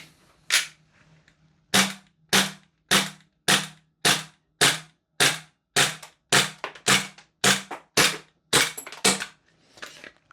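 An FN 509 gas blowback airsoft pistol fires a full magazine: about fifteen sharp, close, loud cracks in a steady, fairly quick rhythm, heard alone with no talk.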